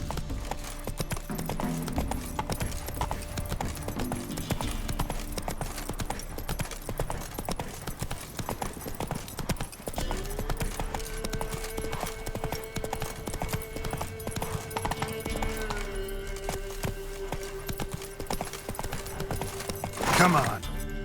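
Horse galloping in The Witcher 3, rapid clip-clop hoofbeats running steadily under game music and a speaking voice, with a brief louder burst near the end.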